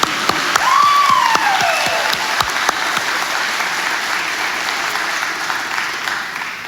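Applause fills an auditorium at a fire and rescue recruit graduation, many hands clapping close and fairly loud with a brief whistle-like cheer early on, holding steady throughout.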